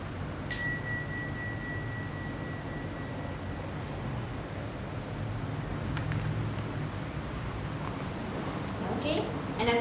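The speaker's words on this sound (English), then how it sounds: "Then maybe I would invite the bell. So we have a small bell." A small mindfulness bell is struck once in a quiet room during a mindfulness session, giving a clear high ring that fades slowly over several seconds above steady background hum.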